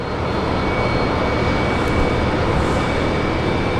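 Fokker aircraft at Brisbane International Airport lining up on runway 19 left, a loud steady engine roar and rush of wind noise throughout.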